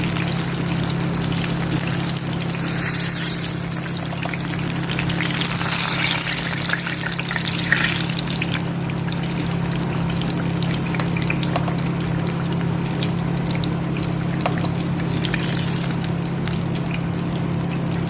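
Water coming to a boil in a cooking pot while rice is prepared, a steady bubbling, hissing churn that runs continuously and close by without pause.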